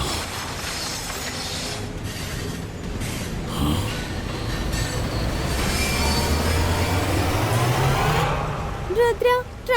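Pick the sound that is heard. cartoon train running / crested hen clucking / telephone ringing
cartoon train running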